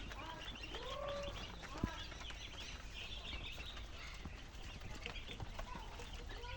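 Farmed quail call for food in short, faint chirps and peeps, a few scattered notes over a low background hum.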